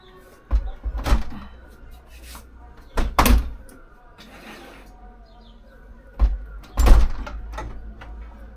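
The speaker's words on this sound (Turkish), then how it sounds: "Menteşeyle sökmeden önce öncelikle kapıyı kapatalım ki menteşe filmleri çıkınca kapı aşağı düşmesin" A PVC door being swung shut before its hinges are removed, giving several sharp thuds and knocks spread over a few seconds, with two louder pairs of impacts near the start and end.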